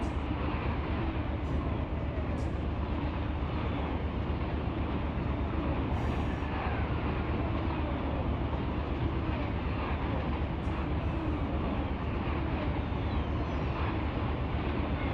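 Freight train boxcars rumbling past in the Run 8 train simulator, a dense continuous roar with faint intermittent clanks, steady and loud throughout with no talk.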